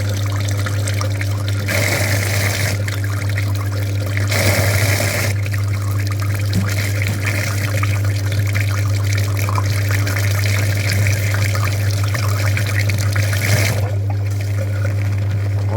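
Water flushes through the heater radiator of a Mitsubishi Pajero Wagon in a steady, continuous rushing stream, loud and close, over a constant low hum, with a few brief surges.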